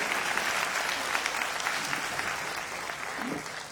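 Hindi poetry recital audience breaking into sustained applause, a dense steady wash of clapping that holds loud and even throughout, with no voices over it.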